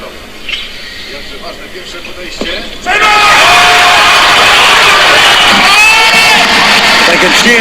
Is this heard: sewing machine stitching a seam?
no